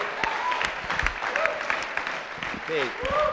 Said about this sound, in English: Clap. We'll do a clap.